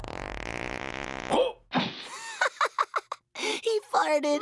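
A cartoon fart sounds in a Teen Titans Go! To the Movies trailer, a brief blurt among sharp comic sound effects and animated character voices talking.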